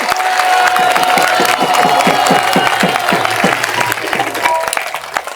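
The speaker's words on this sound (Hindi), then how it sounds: "अभी एक में जोर से ताली बजा रहा" An audience at a Hindu religious discourse in Vrindavan claps loudly in a steady, rhythmic unison, sharp close claps repeating evenly throughout before thinning slightly near the end.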